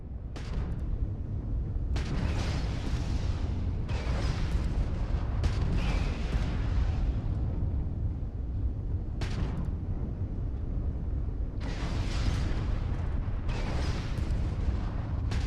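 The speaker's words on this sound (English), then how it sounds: "If you can keep the enemy ship centered on the HUD, we can lock in to fire a homing missile." Starfield space combat: repeated heavy booming explosions and missile fire in bursts over a constant loud engine rumble, with several distinct blasts spread across the stretch.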